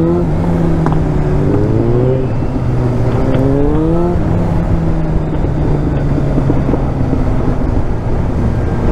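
A motorcycle engine on the Nürburgring drones loud and close under heavy wind noise, its pitch rising and falling through several gear changes as the bike accelerates.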